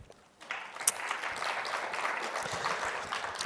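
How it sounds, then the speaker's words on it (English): Audience at the Nedlac Annual National Summit breaks into applause after a quiet moment, the clapping swelling in within half a second and then holding as a steady, dense patter to the end. "Another round of applause,"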